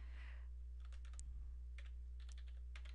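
Quiet bursts of typing on a computer keyboard while entering an equation command, with clustered keystroke clicks over a steady low electrical hum.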